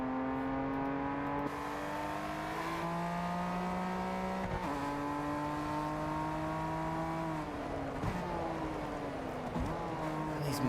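Steady droning car engines from the game Test Drive Unlimited Solar Crown, cruising in Hong Kong, hum and whine, pitch shifting up and down as gears change, continuous and fairly synthetic-sounding with no talk.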